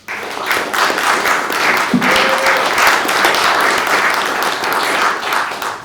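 Steady, dense audience applause for Pete Clark at a live interview event, a full room clapping evenly at close range for several seconds without letting up.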